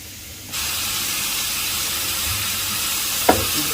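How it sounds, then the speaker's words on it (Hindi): Mutton browns in a hot pot for Afghani pulao, with a loud hiss and sizzle that surges in and holds steady, marked by one sharp clink. "गोश्त को मैं अच्छी तरह ब्राउन कर रहा हूँ"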